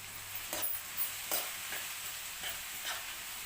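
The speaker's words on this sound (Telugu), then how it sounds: "ఇప్పుడు దీన్ని కలుపుతూ ఉండాలి." Okra frying in oil with garlic and chilli is stirred in a pan, giving a soft steady sizzle broken by several faint, evenly spaced scraping strokes.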